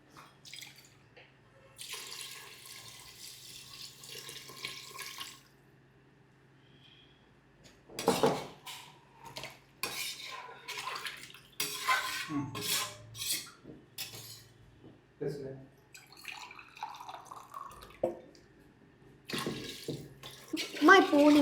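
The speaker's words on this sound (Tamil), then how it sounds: "நம்ம 3 டம்ளர் தண்ணி ஊற்றுறோம்" Three tumblers of water are poured into a pot of rice for chicken biryani, heard as several separate close splashing pours with small clinks of the cup between them.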